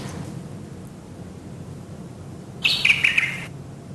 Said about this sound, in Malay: tambah bunyi kicauan burung